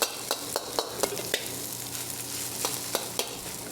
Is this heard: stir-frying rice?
yes